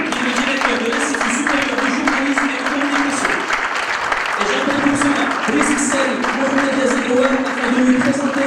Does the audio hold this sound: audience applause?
yes